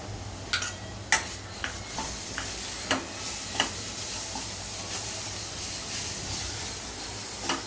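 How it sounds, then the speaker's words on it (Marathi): Ginger garlic paste frying with onions in a pan, a soft continuous sizzle broken by occasional sharp scrapes and clicks of a spoon stirring, no voices. "मस्त अद्रक लसूणची पेस्टसुद्धा आपण याच्यामध्ये व्यवस्थित फ्राय करून घेऊया"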